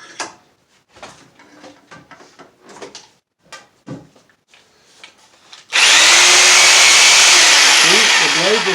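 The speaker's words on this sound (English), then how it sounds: "I could cut wherever I needed to because I've got the Sawzall" Scattered knocks and handling noises come first, then a Sawzall reciprocating saw starts up, loud and close, its harsh buzzing cut holding steady for several seconds.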